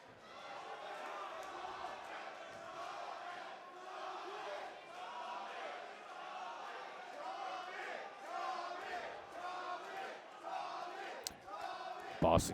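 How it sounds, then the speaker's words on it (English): A Boston boxing crowd chants a fighter's name during a bout, a rhythmic, repeated crowd chorus rising and falling steadily across the arena with a sharp knock near the end. "Boston crowd chanting Tommy's name."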